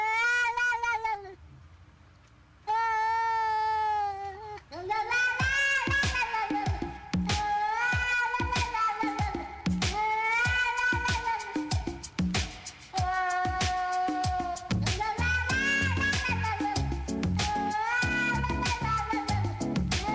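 Cat meows remixed into a song with percussion, reverb and keyboards, the pitched meows repeating rhythmically as a melody over a steady musical backing with a beat.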